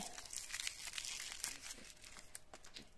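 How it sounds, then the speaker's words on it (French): Small Chocobon chocolate candies are unwrapped close up, with bright, continuous crinkling and rustling of their wrappers in quick bursts and no talking. "on va prendre des petits chocobons. On déballe."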